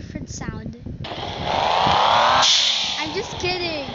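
Bugatti Chiron engine in a video game revs up with a rising, whining tone, swells loud, then fades. A voice talks at the start and end.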